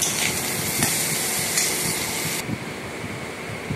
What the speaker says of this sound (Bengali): এই উচ্ছেটা ভেজে নিচ্ছি